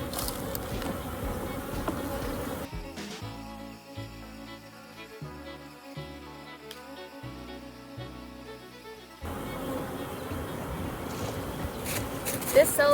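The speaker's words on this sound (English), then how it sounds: "And the bees are coating the frame," Honeybees crowd over a hive frame during a beekeeping inspection, their steady buzzing humming close by, briefly overlaid by a tonal background passage before the open buzz returns.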